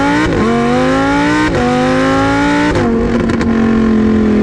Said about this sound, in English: You really do know when you're in a Lamborghini, like. You can hear it.